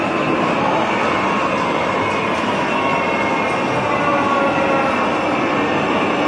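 A G gauge model Shay locomotive runs on a large indoor train layout, producing a steady, dense rolling rumble with a constant mechanical whir throughout, fairly loud and continuous with no talk.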